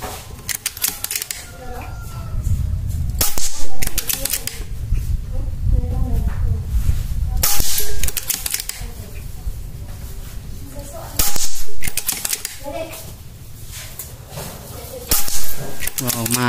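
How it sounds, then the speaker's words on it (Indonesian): PCP air rifle shots striking a metal silhouette target 27 meters away, with sharp cracks and metallic impacts at irregular intervals, mixed with people talking nearby. "sekarang kita tembak metal siluetnya bos"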